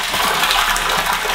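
Water carrying mud rushes out of a gravity-fed pipe in a steady, loud, continuous gush with no pauses.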